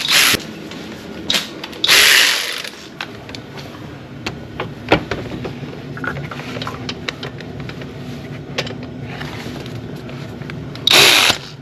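A power tool drives an E12 socket on a 2-inch extension to remove the belt tensioner on a Mercedes-Benz E350 3.5L, a loud, steady mechanical whir with brief louder bursts at the start, near the two-second mark and at the end.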